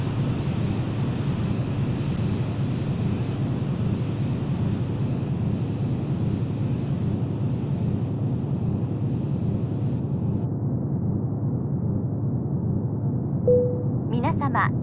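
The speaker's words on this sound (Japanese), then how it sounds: "ただいま名古屋空港に着陸いたしました" A jet airliner in the PlayStation game Jet de GO! roars steadily through its landing, a loud, continuous engine rumble that drops slightly near the end, with a brief high beep at the close.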